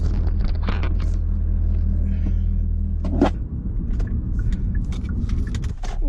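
Low engine rumble and cabin hum from inside a car stuck in traffic, steady and close, with a few clicks and brief rustles and faint voices now and then.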